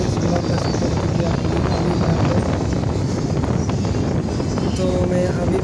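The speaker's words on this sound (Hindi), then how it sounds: "बाइक से जा रहे हैं घूमने और देखिए कितना स्पीड में जा रहे हैं हीरो होंडा से" Hero Honda motorcycle ridden at speed on a village road in Bihar, with a steady, dense engine and wind roar throughout, close and loud, with no talking over it.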